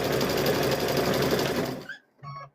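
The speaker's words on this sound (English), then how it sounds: "I'm going to sew that off to the end" Sewing machine stitching through a coiled fabric rope bowl, a steady loud motor whir for about two seconds, then stopping briefly before a short final burst of stitching.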